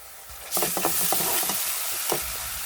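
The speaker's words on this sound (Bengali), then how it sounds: "ডিম ভাজার তেলে আমি পেঁয়াজ ছেড়ে দিচ্ছি পেঁয়াজ দিয়েছি কাঁচামরিচ দিয়েছি পেঁয়াজগুলো এখন ভেজে নেব" Onions and green chilies fry in leftover egg-frying oil, a constant sizzle swelling louder as a spoon stirs, with several scraping strokes against the pan up close and no voices.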